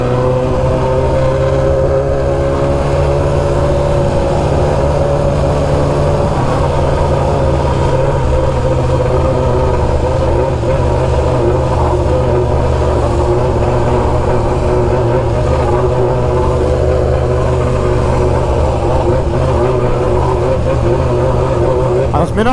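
A crowded street meet with many motorcycles, including a BMW S1000RR, as engines drone and rev steadily, loud and close for the whole stretch, with people talking over the noise.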